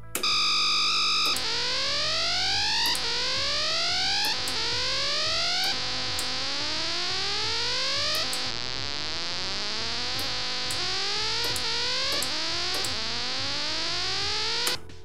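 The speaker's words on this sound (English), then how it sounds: "we can hear almost immediately just how quickly the cap discharges and raises the pitch" A sample-and-hold synth module built around an LM324 chip repeatedly sweeps upward in pitch with a buzzy, distorted tone, each rising glide restarting every couple of seconds in a loud, continuous electronic drone.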